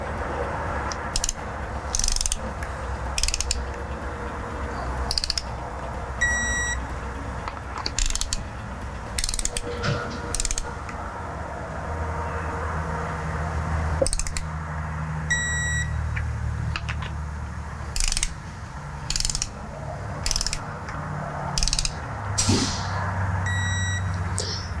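Torque wrench tightening diesel cylinder head studs, giving bursts of ratcheting clicks in a circle pattern, repeated many times, with occasional electronic beeps as target torque is reached. Close and mechanical, with no talking.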